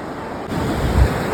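The clear Dhauliganga river rushing close by, a steady broadband roar of flowing water that swells slightly midway, with no one speaking.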